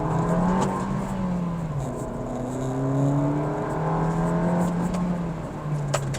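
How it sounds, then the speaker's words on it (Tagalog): A Suzuki Dzire AGS engine revs in manual mode, its steady hum rising and falling through several smooth climbs in pitch, heard from inside the car with no talking. "Alright, naka-manual mode tayo. Listen to the engine."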